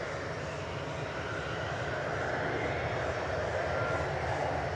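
A jet airliner roars on takeoff from the runway at DFW airport, a steady broadband rumble heard from a distance at moderate level, swelling slightly as it climbs away.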